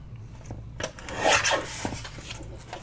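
Vellum paper pocket edge being trimmed: a dry, rasping cut with soft rubbing, close and fairly steady over a few seconds, with no voices.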